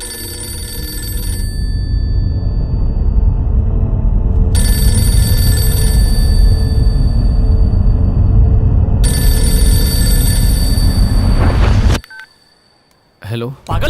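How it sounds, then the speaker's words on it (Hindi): A telephone rings continuously for about twelve seconds, loud and close, over dense background noise from a dubbed action film scene. It cuts off abruptly, leaving near silence with a brief sound at the end. "फोन क्यों नहीं उठाता?"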